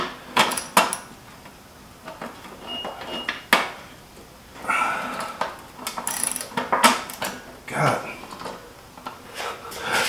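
A socket ratchet clicks in short bursts while fastening a stainless steel flip-up roller fairlead license plate mount, the ratcheting rattles coming and going up close between pauses, with a person talking over parts of it.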